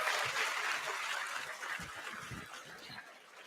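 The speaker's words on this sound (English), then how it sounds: "Let's have a huge round of applause for all the graduating students today." Applause for graduating students at a medical college graduation ceremony, a broad, hissing wash of clapping that slowly fades across a few seconds, with faint low murmurs underneath.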